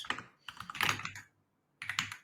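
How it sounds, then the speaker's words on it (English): Typing on a mechanical keyboard: close, quiet clusters of clacky keystrokes in three short bursts with a brief pause between them. "I'm on my mechanical keyboard today as well."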